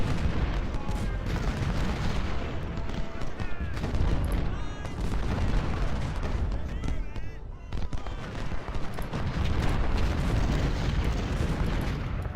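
Cannon and musket fire in the Civil War strategy game Ultimate General: Civil War form a dense, continuous barrage of booms and crackling volleys, loud throughout with no clear gaps.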